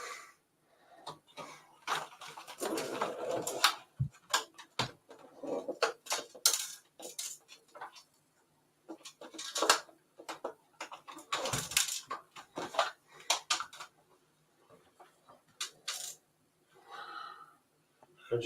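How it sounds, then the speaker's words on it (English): Plastic model Titanic hull being tipped and shaken while a loose anchor piece rattles inside it. The result is irregular clatters and scrapes in bursts with pauses between, close and fairly quiet, and no speech. "I just hear the anchor moving."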